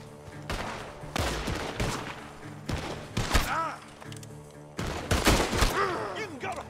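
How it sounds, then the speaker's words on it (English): Gunshots ring out from a barn in Red Dead Redemption II, a series of sharp reports with echoing tails spread over several seconds, some in quick pairs, alongside faint speech. "Shots are coming from that barn."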